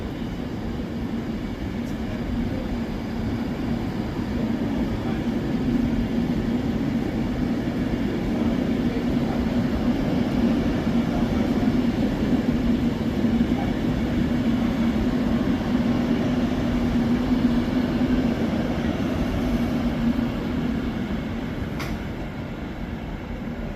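A Class 390 electric train, unit 390046, on the Glasgow Central to London Euston service runs steadily past at close range, a sustained loud rumble and rolling roar lasting throughout with no voices.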